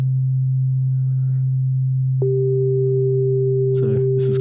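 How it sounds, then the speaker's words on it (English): A digital synthesizer plays a steady, pure sine wave tone that holds throughout, joined midway by a second higher sustained tone, with brief clicks near the end. "something you don't see all the time, which is a sine wave"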